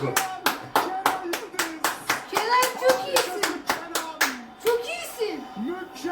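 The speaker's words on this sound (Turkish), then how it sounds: "Bu golü de ayakta alkışlayalım." Hands clap in a steady run of sharp, separate claps close by, with voices chattering underneath, a standing ovation for a goal in a Bulgaria versus Türkiye World Cup qualifier match.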